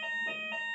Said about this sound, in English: There's the fire alarm.